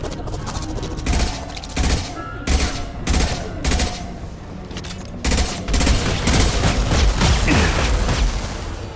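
Concussive shot firing in the sci-fi shooter Mass Effect 2, buried in a dense battle of repeated gunfire bursts and booms that land in a choppy rhythm, loud and close throughout.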